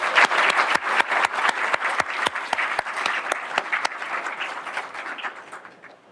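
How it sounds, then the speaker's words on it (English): Applause rises in the audience at a city council meeting for a parade chairwoman, a dense crowd of clapping hands with a few sharp, close claps standing out, steady for several seconds before gradually thinning and fading. "let's give her a round of applause"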